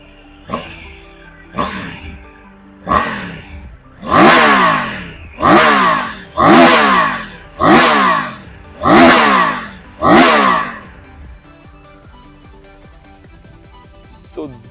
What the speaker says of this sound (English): So this exhaust note is what every rider craves for